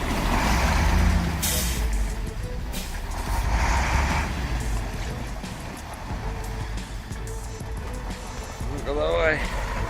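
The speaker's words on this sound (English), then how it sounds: "Kamaz takes it head on, shattering ice like it owes him money." A Kamaz truck driving over a frozen river, its engine rumbling loudly as ice cracks and breaks beneath it, with bursts of heavy crunching and a hiss like air brakes, partly under a voice.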